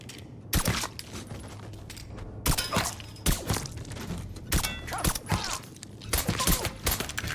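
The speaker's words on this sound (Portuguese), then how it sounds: "Cara, o cara tomou muito tiro." Gunshots from the Mafia III video game crack out in loud, sharp bursts spaced irregularly, some in quick clusters, over low background ambience.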